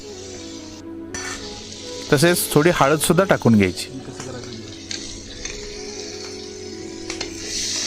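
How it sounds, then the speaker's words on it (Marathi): Chicken roasting in a pot with turmeric sizzles steadily and close, with stirring clatter, while a person talks over it for a few seconds. "ह्या चिकनला व्यवस्थित भांड्यात भाजून घ्यायचं"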